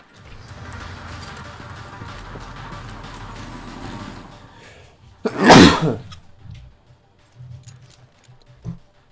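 A single loud, sharp sneeze bursts out close by, standing out against quiet background noise with a few faint thumps afterward.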